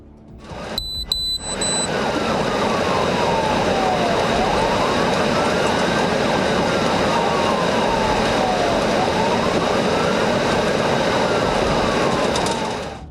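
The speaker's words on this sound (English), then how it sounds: "The car accelerates, ignoring the police siren." A police car siren wails during a chase, loud and close, its tone sweeping up and down in slow repeated cycles over the roar of a speeding car after a brief opening clatter.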